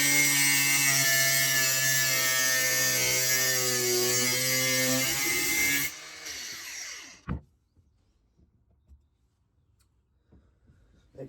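Power tool cutting a metal lock part to size in a locksmith's workshop: a loud, steady whining cut with strong harmonic tones lasting about six seconds, then spinning down to a sharp clack and near silence.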